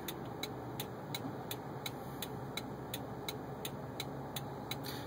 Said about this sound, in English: My indicator is incredibly loud.